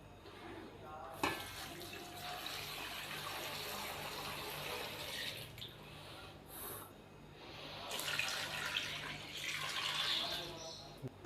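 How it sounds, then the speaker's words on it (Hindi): Water pours from a container into a pressure cooker of corn cobs, a steady splashing, gurgling stream that swells and falls back in bursts over several seconds, heard up close with no voices. "अब हम इसमें पानी शामिल करेंगे।"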